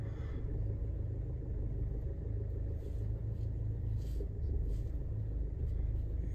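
A car drives on a slippery, muddy road, its engine and tyres giving a steady low rumble from inside the vehicle throughout, without talk.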